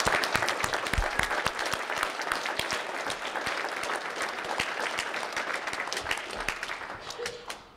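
Audience applause at a 2023 radiologic technology pinning ceremony, many hands clapping in a steady crackling wash with a few distinct sharp claps, fading away at the very end.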